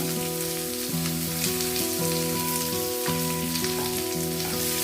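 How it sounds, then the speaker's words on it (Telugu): Chopped onion and green chillies fry in oil in a pan with a steady, dense sizzle under a constant tonal hum throughout, close and loud. "మనం కట్ చేసి పెట్టుకున్న ఒక పెద్ద ఉల్లిపాయ రెండు పచ్చిమిర్చి తరుగు దీన్ని బాగా ట్రాన్స్పరెంట్గా ఫ్రై చేసుకుందాం"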